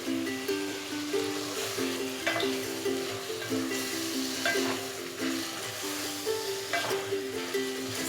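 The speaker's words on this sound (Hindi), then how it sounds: "लहसुन पेस्ट और अदरक पेस्ट ऐड करूँगी और इसे थोड़ा सा और फ्राई करूँगी" Beef liver fries with garlic and ginger paste in a pan, giving a steady close sizzle broken by periodic stirring scrapes and soft bubbling.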